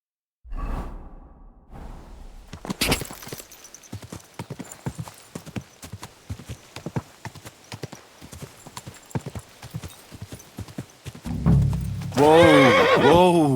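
Rhythmic clip-clop of horse hooves at a steady gait in the video game Kingdom Come: Deliverance II, closing with a loud, drawn-out horse whinny.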